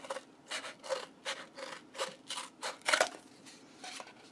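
Scissors cut a cardboard paper towel tube in a steady series of about a dozen crisp, rhythmic snipping cuts at close range, each a short scraping crunch through stiff material.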